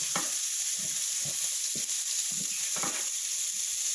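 Pea pods stir-frying with garlic and sesame in a hot pan give a steady, close sizzle throughout, broken by soft clicks and scrapes of stirring at irregular intervals.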